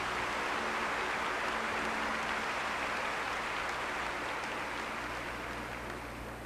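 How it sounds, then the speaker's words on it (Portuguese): A crowd at a prayer-camp talk applauds, a dense, steady wash of clapping that holds evenly throughout and fades slightly toward the end. "Pode aplaudir essa palavra."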